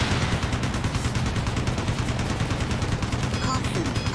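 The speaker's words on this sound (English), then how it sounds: "Fire gun." Sustained rapid gunfire in the Ace Combat Assault Horizon video game, a loud continuous stream of shots with dense, steady bursts and no pauses.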